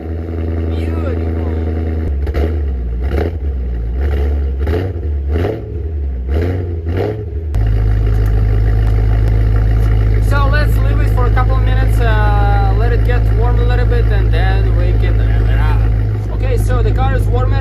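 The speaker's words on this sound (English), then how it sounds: "let's hear that freaking cold start on that M3" A BMW M3 E92 straight-six with a manual six-speed cold-starts and idles loudly, with rhythmic revs early on, then a high, steady idle drone, while someone talks over it.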